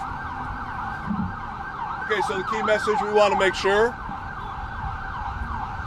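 An ambulance siren wails steadily near a street sinkhole repair site by the 3rd Street Tunnel in DC, a loud, continuous rising-and-falling tone running throughout while someone speaks over it partway.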